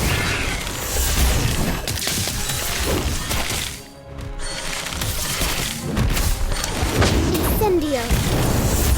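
Thunderbird card attack in Harry Potter: Magic Awakened, a dense, continuous barrage of booming crashes and whooshing magical impacts layered over game music, with a brief lull midway before the loud clatter resumes.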